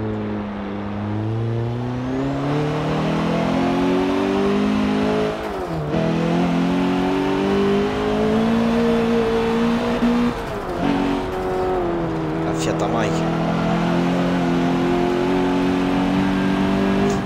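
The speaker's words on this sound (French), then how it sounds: "Je mets la première. J'accélère." A Fiat's engine in a racing video game played on a Logitech G920 wheel revs loudly and climbs in pitch through several gear changes, with brief dips between shifts and no talking.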